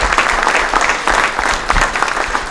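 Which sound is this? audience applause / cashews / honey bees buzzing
audience applause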